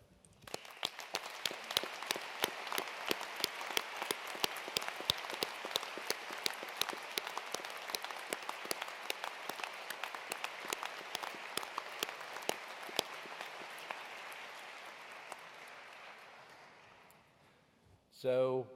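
A graduation ceremony audience at the University of Edinburgh applauds steadily for about seventeen seconds, dense crowd clapping that slowly fades out, with a brief voice at the very end.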